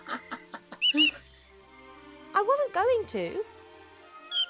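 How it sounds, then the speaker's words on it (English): Squawking bird in the adventure game The Book of Unwritten Tales 2, sharp, loud squawks in two bursts with a later short cry, trading off with a speaking voice between calls. "Goddamn bird"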